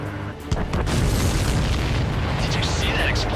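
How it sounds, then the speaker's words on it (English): A supply ship explodes in the flight combat game Ace Combat 7, a sudden loud boom at the start that swells into a sustained, roaring rumble with crackling debris, heard up close and filling the whole stretch. "Did you see that explosion? Looks like that's one of them down."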